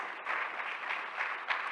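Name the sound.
audience applause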